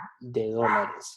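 Indoors at home, a dog lets out a single short, harmonic bark that cuts in just after a person finishes speaking, close and fairly loud.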